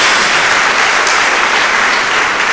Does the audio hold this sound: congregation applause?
yes